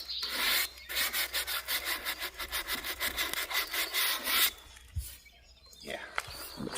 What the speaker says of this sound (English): Now, where possible, sand the direction of the grain.